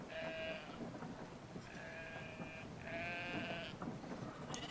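Sheep bleat in the video game Brothers: A Tale of Two Sons, three drawn-out bleats in a row over a steady rain-like background hiss, fairly faint, no talk.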